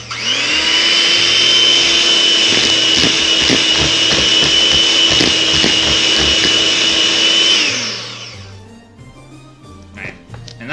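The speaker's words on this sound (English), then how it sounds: "I'm going to be using an electric whisk so that I know it's all mixed together properly" An electric whisk churns dry bath bomb ingredients in a bowl with a loud, steady motor whine for about eight seconds, then switches off, leaving faint handling noises.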